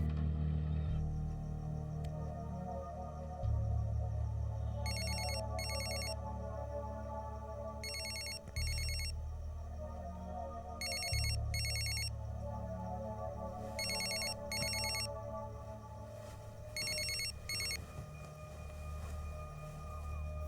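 A phone ringtone plays in repeated pairs of bright electronic trills, about five rounds spaced a few seconds apart, over a low sustained musical underscore.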